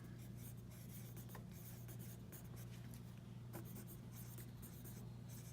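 Steady, faint scratching of writing strokes runs close by, unbroken and without any talk.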